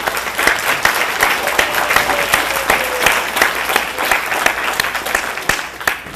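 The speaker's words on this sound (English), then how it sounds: "A round of applause for all of you." Audience at a MyWIC graduation ceremony applauding the graduates, a loud, steady round of clapping from a crowd that continues throughout, with sharp individual claps standing out near by.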